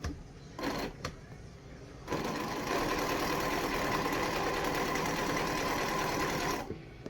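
A sewing machine runs steadily while two quilt fabric pieces are fed through at a quarter-inch seam. A few short bursts come first, then one long continuous run of stitching at close range, with no voices.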